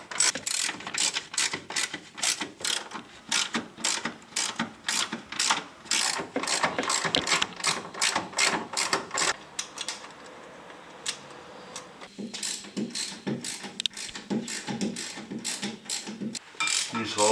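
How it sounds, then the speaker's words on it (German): A hand ratchet clicking rapidly while bolts are backed out on the rear axle of a Porsche 911 SC, close, in repeated bursts with short pauses and no talking. "Machen wir mal die anderen Schrauben auf der Reihe nach raus."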